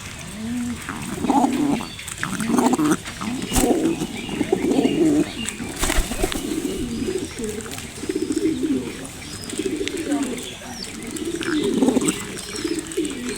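Many pigeons on a pigeon farm coo in steady overlapping rounds close by, with occasional chirps and a dog barking; people talk intermittently over the cooing.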